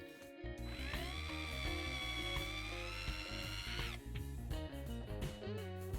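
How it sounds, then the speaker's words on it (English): A power drill whines steadily at high pitch for about three seconds while drilling out a metal rivet on a die-cast toy crane, then stops, followed by scattered metallic clicks and tool handling. "I continue by drilling out the rivet that holds the crane in place."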